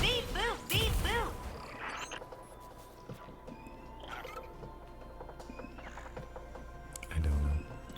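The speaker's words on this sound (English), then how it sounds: "Is that a frog?" Frog in Destiny 2, with a few loud croaking calls early on, then faint scattered creature sounds over a steady game ambience, and another louder croak near the end.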